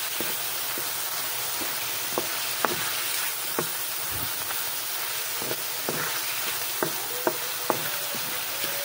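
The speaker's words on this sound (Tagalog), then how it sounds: "gisahin lang natin mabuti ang ating chicken" Chicken sautéing in a pan for broccoli chicken with tofu: a steady, even sizzle fills the background while a spatula occasionally taps and scrapes the pan, close by and without talk.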